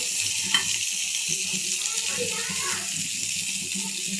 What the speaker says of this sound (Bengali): পেঁয়াজ দিয়ে দিলাম পেঁয়াজটা সব একসাথে ভাজা হোক